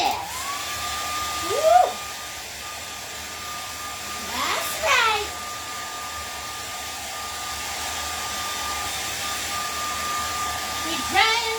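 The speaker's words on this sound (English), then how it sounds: "grab your hair dryer." A hair dryer runs steadily for about ten seconds, drying a painting of an Aurora Borealis winter sky, with a steady whine throughout and brief cheerful voices speaking over it near the start and end.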